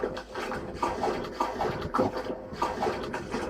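Water flows through a pipe in a horror video game, a continuous gurgling and sloshing with irregular bubbling pulses, moderately loud and heard alone.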